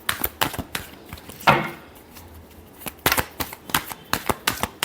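Tarot cards are shuffled in quick, crisp riffling bursts with short pauses between, close and clear with no talk over them.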